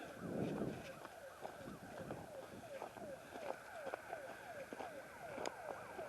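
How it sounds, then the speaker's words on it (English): A business alarm rings in the distance, a faint repeating electronic wail cycling steadily under quiet outdoor ambience, with a brief louder rumble near the start. "That sounds like a business alarm."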